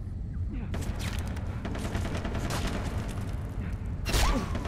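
Gunfire in the first-person shooter Far Cry 3, with dense bursts of shots and booms through a busy game soundscape, sharper blasts near the start and a loud one toward the end.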